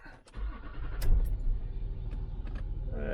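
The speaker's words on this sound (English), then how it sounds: "So let's start the car up and see what that does." A Land Rover Discovery 3 with the 2.7 TD diesel engine cranks and catches after a brief click, then settles into a steady, low rumbling idle nearby, with a few small knocks and clicks over it.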